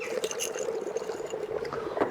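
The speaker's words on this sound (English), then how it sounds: "I'm going to take some of that solid carbon dioxide and put it into this jug of coloured water" Solid carbon dioxide drops into a jug of coloured water, setting off a steady, close bubbling and fizzing wash of liquid sound.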